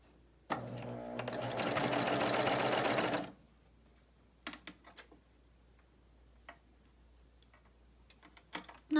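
A BabyLock Euphoria coverstitch machine sews a hem in a short, fairly loud burst of under three seconds, then falls silent apart from scattered faint clicks and taps.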